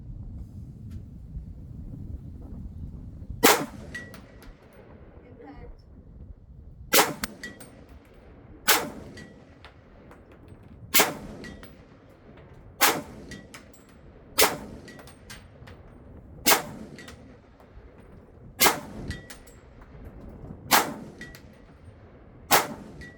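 Rifle rounds from a 300 Blackout short-barreled rifle striking steel targets at a shooting range: about ten sharp metallic clangs spaced a second or two apart, ringing over a low background rumble.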